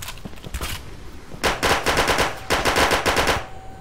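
Rapid machine-gun fire in the video game Red Crucible: Firestorm rattles out in three loud, close bursts, a short one first and then two longer sustained strings separated by brief pauses.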